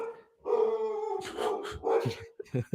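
A dog in a room gets worked up, letting out drawn-out whining, howl-like cries followed by a few sharp yips, close by and fairly loud.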